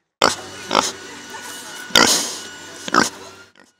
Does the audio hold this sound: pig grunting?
yes